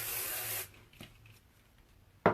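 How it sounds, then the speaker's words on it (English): Light hairspray is sprayed onto long curled hair in a sustained hissing burst, then a pause, then a brief second spritz near the end, close to the microphone. "I'm going to take my handy dandy favorite light hairspray"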